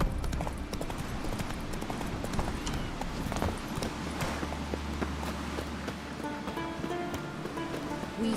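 The horse Roach trots in The Witcher 3, her hooves clip-clopping in a steady rhythm over a background of surf and ambient game sound, with faint voices now and then.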